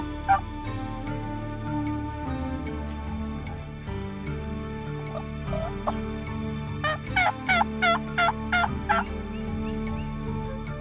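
A wild turkey gobbler gobbles in northern Missouri, a quick run of loud, rattling bursts near the end, over a steady outdoor background.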